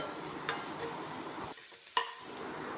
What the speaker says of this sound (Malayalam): അങ്ങനെ ഇതാ ആ സവാള അരിഞ്ഞത് അതിലേക്ക് ചേർത്ത് കൊടുത്ത് ഒന്ന് വഴറ്റി കൊടുക്കുന്നുണ്ട്